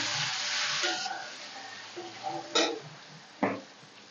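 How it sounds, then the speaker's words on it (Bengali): Chopped onions drop into oil with fried whole spices and sugar for a dhaba-style country chicken curry, starting with a burst of sizzling that fades, then a few sharp stirring scrapes and clatters up close. "দিয়ে দেবো পেঁয়াজ কুচি,"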